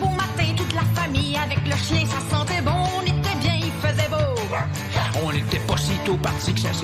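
A dog barks repeatedly within a radio advertisement song, the yappy barks woven through upbeat music and singing at full volume.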